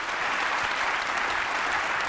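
Continuous applause from an audience, a dense, steady wash of clapping that stays loud and even from start to finish.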